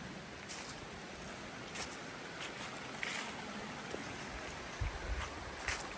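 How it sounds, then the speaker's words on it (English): A creek at a forest-road campsite near Greenwater, with salmon in it, flows with a steady, faint broadband rush of water and a few soft splashes and knocks. No one speaks. "there's a nice creek here."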